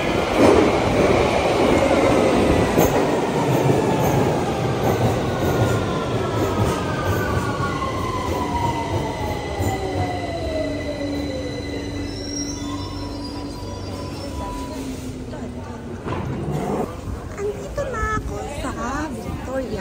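A train pulls into a London station, its wheels squealing in long, falling tones over a rumbling rail noise that slowly fades as it slows. People talk nearby throughout.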